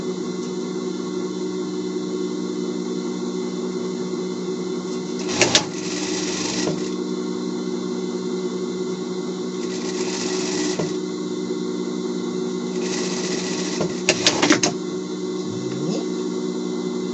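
A domestic sewing machine stitches a Paw Patrol Chase costume bag in several steady runs, its motor whirring continuously with brief pauses and a few sharp clicks between seams, close and loud with no talk.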